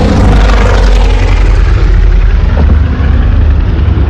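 A Luftwaffe propeller aircraft passes loud and near as a steady, dense engine roar that fills the whole clip without a break.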